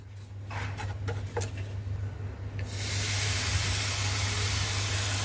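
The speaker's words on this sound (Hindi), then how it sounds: "अब इसमें 1 कटोरी दूध डालेंगे।" Milk poured into a hot pan of ghee for coconut laddoo bursts into a loud, steady sizzling hiss that runs on, after a few light utensil clinks.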